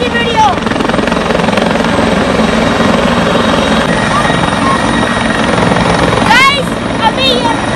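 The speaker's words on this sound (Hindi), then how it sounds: "गाइस हेलीकॉप्टर जा रहा है।" A helicopter lifting off and flying, a loud continuous rotor roar and whine that dominates throughout, with people talking and shouting beneath it.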